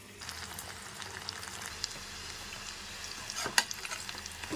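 Chicken pakoda crackles and sizzles in hot oil while being stirred, a close, busy frying hiss with scattered pops and spoon scrapes and no speech.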